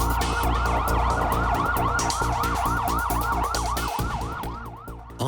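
An ambulance siren wails loudly in rapid repeating up-and-down sweeps, close by, over a running engine, fading slightly toward the end.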